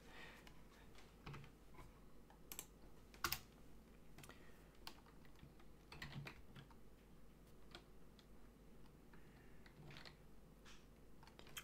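Typing on a computer keyboard, soft scattered key clicks at an uneven pace, fairly faint and close, with a few sharper taps standing out against a low background hum.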